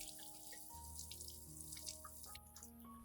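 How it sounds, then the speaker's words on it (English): Clean water running from a tap to rinse an orchid plant after its damaged roots are pruned, a steady close trickle with splashes and drips, alone. "After removing all damaged roots, thoroughly rinse the entire plant with clean water."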